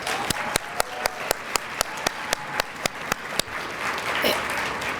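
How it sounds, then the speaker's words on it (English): Conference audience applauding for an outgoing municipal league president: a steady run of sharp, evenly spaced claps stands out over a broad wash of crowd clapping that continues throughout, with no talk. "Let's give Mayor Eric Simmons another round of applause."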